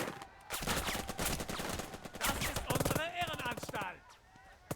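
Machine-gun fire in the WWII tactics game Burden of Command, dense bursts of rapid shots filling the scene, mixed with other battle effects and a voice talking over the action.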